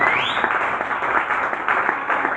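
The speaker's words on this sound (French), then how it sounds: "Acclamons Jésus" A church congregation breaks into sustained, dense applause, steady and fairly loud, with a faint voice and a rising tone at the very start.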